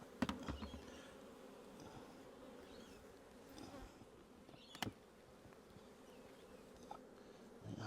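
Agitated honey bees swarm and buzz around an opened hive in a spring garden apiary, a steady close droning hum throughout with a few sharper passes near the microphone.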